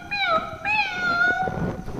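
A voice imitates a cat meowing, repeating the call in a sing-song way with three drawn-out, pitch-sliding meows, close and clear over faint room noise.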